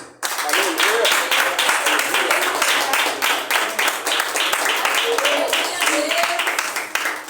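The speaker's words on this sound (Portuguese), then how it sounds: "vamos aplaudir a Jesus pela vida dos nossos visitantes" Loud, sustained applause from a church congregation, dense clapping filling the room for several seconds, with a few voices calling out underneath.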